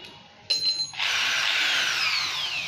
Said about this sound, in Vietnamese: Bắn trực tiếp vít đi xuống.